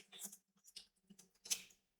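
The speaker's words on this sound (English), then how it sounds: "we're going to be cutting right at the fold, but you're only going to cut a sliver off" Scissors make a few quiet, close snips as they cut through folded paper doilies at the fold. The cuts come as separate short crunches with brief pauses between them.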